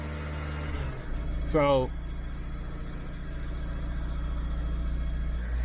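A 2012 Dodge Avenger engine in limp mode, locked at about 2,000 RPM, drones as a steady low rumble throughout, with a brief spoken word near the start.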